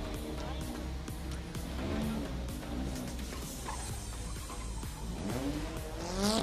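Race cars accelerate hard in a race, engines revving up and down with brief tire squeals and skids, loud and close, with a voice talking over the noise.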